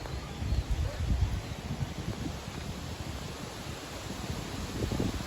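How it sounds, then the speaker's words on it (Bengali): Strong gusting wind during a dry storm with no rain and dust blowing, heard as a steady roaring rush of wind noise with rustling surges that swell at the start and again near the end. "বৃষ্টি নেই, শুধু প্রচুর পরিমাণে বাতাস হচ্ছে।"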